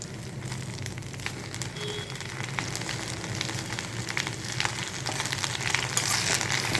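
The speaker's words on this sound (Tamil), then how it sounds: "அதுக்கப்புறம் நம்ம இப்போ சுத்தம் பண்ணி வச்சுருக்கிற முருங்கை இலையை போட்டுக்கணும்." Moringa leaves frying in ghee in a kadai, a close, steady sizzle and crackle with light stirring, continuous and without talk.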